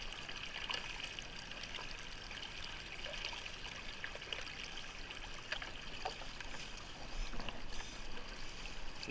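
Water runs steadily through a gold sluice outdoors, a continuous hissing trickle and splash at low level with small irregular spatters, no voices.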